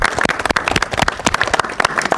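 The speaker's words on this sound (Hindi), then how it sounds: "डुग्गू के लिए तालियां एक बार" Applause for a boy named Duggu at a gathering of visiting people, a burst of close, uneven clapping with a few sharp claps standing out, lasting a couple of seconds.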